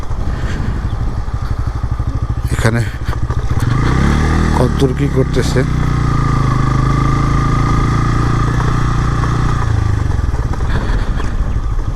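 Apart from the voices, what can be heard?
motorcycle engine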